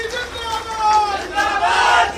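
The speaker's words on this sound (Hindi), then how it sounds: "जोरदार ताली बजाएं मोदी जी के लिए और हमारे रेल मंत्री जी के लिए।" A crowd cheers and shouts at the inauguration of a new railway station in Bhopal, a steady, fairly loud swell of voices with raised cries that builds toward the end of a short burst.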